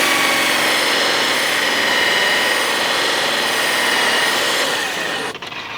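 A spinning polishing buff raked at about 1400 rpm while prepping for polishing forged wheels, a steady loud whirring roar with gritty rasping texture, dropping off briefly near the end.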